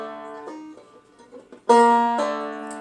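A banjo in open G tuning plays plucked notes with a pull-off, two distinct pitches ringing out clearly and close, followed by a louder strummed attack that sustains.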